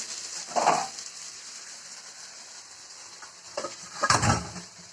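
Early-morning stirring and sizzling in a home kitchen pan where eggs are being cooked, with a steady fry hiss and two louder scraping stir bursts near the start and end.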